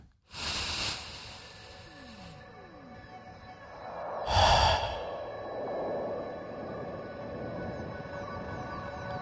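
A slow, deep breath taken in a quiet room, a soft airy inhale followed after a pause by a longer, fuller exhale, close and gentle with faint background hiss.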